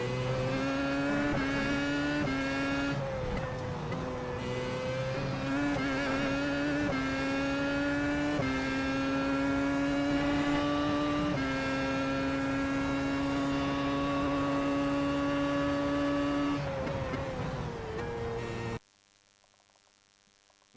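Williams FW31 Formula One car accelerating out of a corner at Monza, a loud close engine scream that climbs through several upshifts and then cuts off suddenly.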